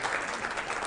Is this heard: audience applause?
yes